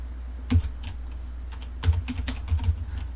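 Typing on a computer keyboard to enter text, a few sparse clusters of close, sharp key clicks separated by short pauses.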